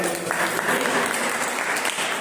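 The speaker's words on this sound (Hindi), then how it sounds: "एक बार ताली से स्वागत करें" A church congregation claps in welcome during a Hindi sermon, a close, continuous wash of many hands filling the whole short stretch at an even level.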